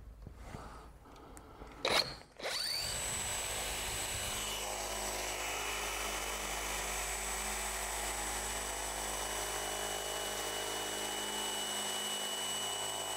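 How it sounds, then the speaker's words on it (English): A power drill whirs steadily after a brief clatter, its motor holding a continuous high whine as it bores through rock-hard wood. "we've drilled the hole with a smaller drill bit"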